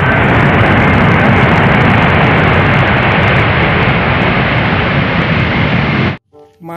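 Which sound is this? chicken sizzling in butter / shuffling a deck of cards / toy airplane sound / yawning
toy airplane sound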